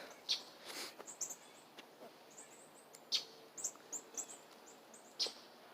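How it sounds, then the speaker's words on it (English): Birds chirp and tweet around, short high calls scattered irregularly, some near and some farther off, with quiet pauses in between. "You can hear all the birds around here"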